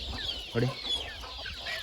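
Native country chickens clucking on a farm, a few short clucks close by with a louder burst near the middle over steady background noise.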